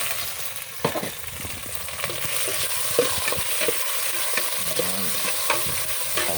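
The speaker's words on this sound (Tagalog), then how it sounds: "Gisa na tayo guys." Onions sautéing in a pan over a wood-fire stove for pancit meki: a continuous close sizzle and frying hiss, broken by irregular scraping stir strokes.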